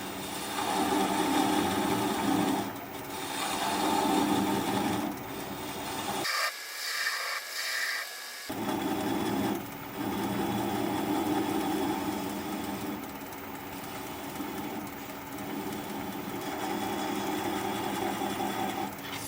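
A wood lathe spins a flower pot blank at slow speed while a swept-back bowl gouge shaves the wood, giving a steady whirring rasp up close, broken once by a short pause before cutting resumes.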